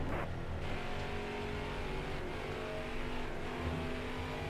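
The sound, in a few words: race car engine throttle, video game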